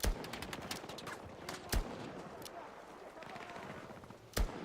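Gunfire in the Battlefield video game: a few sharp, loud shots stand out above rapid quieter bursts, with someone talking over the action.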